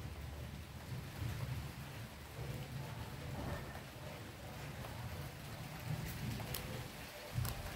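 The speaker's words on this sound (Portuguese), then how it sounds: "Escuta o trovão aí, ó." Thunder rumbles low and distant through steady rain falling on wet leaves and wet asphalt in a city in Betim, Minas Gerais, with the rain continuing as a constant hiss and faint thunder swelling a few times.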